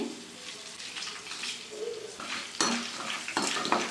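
Dried red chillies dropped into hot oil in a pan with chana dal and garlic, giving a soft, continuous sizzle with occasional stirring clinks and scrapes.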